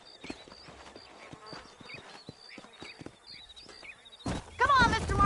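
Horse hooves clip-clopping in the Red Dead Redemption 2 video game, a soft, steady walking rhythm of light hoof hits under quiet ambience, ending with a sudden louder burst of noise.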